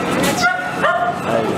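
Dogs at a vaccination visit for DHPP and intranasal bordetella shots let out a few sharp yips and whimpering bow-wows at close range, over background voices and commotion.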